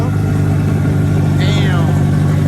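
A manual Toyota Supra with a custom build on stock ECU, running all-wheel drive on slicks, drones loudly and steadily on a dyno as its engine winds up, with a short rising whine partway through.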